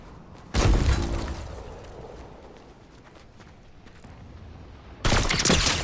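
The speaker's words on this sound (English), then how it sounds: "The fuck are they shooting at me?" Gunfire in an online shooter game aimed at the player, with a loud sustained burst of rapid shots at the start, a quieter rattle of distant fire running underneath, then another heavy burst near the end.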